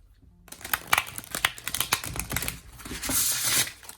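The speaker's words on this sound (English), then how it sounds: "riffle shuffle." A thick tarot deck is riffle shuffled by hand, giving a close, crisp flurry of rapid card flicks that ends in a soft, sustained riffling hiss as the cards bridge.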